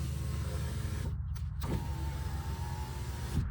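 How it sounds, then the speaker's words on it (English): Rear window motor of a 2009-2014 Nissan Maxima whirring steadily as the glass runs, a continuous mechanical hum that shifts partway through with a brief pause, close and clear. "we can roll the window up"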